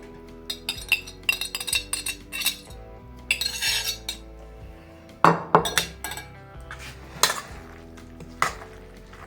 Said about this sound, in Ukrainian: Гарненько перемішуємо ложкою.